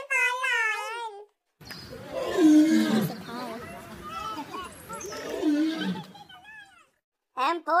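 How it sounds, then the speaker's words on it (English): A lion gives a long, rumbling roar lasting several seconds, fairly loud and close, set within a children's alphabet song, with brief sung or spoken voice just before and after it. "L for lion."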